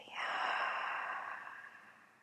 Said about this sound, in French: Et expirez.